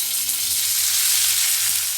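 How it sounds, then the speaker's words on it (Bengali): Chowmein noodles tossed into a pan of already-fried vegetables, giving a steady close hiss of frying with a brief clatter near the end and no talk. "এবার চাউমিনটা আমি দিয়ে দেবো এর মধ্যে"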